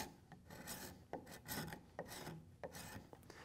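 A card scraper works along the curved profile of a wooden rocker, removing file marks in a series of short, crisp rasping strokes, about eight quick scrapes up close, with no talking.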